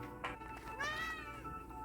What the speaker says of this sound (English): oh, and that's my cat